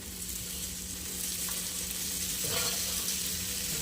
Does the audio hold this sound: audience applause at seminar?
no